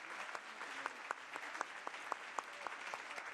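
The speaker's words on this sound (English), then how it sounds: "パネリストの皆様に拍手を持って御礼を申し上げてください。" Audience applause for panelists at a hydrogen ministerial meeting, steady dense clapping with a few sharper individual claps standing out, moderately quiet and sustained throughout.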